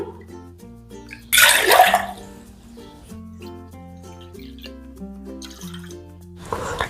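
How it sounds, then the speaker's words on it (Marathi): Water pours into a pot for chakli dough made from bhajani flour, a short splashing burst over steady background music. "म्हणून दोन वाट्याच पाणी घेऊ"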